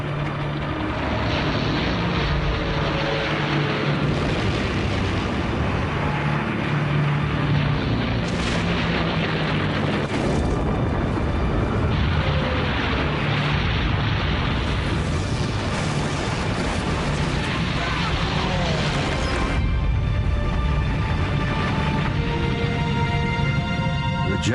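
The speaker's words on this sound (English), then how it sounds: "a lone Japanese bomber closes in on the USS Essex" A Japanese kamikaze bomber attacking the USS Essex in wartime footage: a constant roar of aircraft engines and heavy gunfire, with booming bursts rising throughout the dense, unbroken din.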